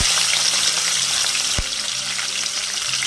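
Steady, close sizzling of onion and green chilli frying in hot oil, with a brief low thump partway through.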